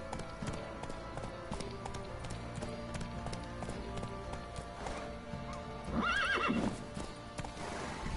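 Rhythmic hoofbeats of a galloping horse in The Witcher 3: Wild Hunt continue steadily, broken midway by a loud, close whinny over game-like background sound.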